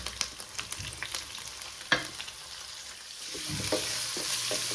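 Sliced onions going into a pan of ginger and garlic for a chicken and pumpkin kulambu, close stirring clatter at first, then a steady rising sizzle.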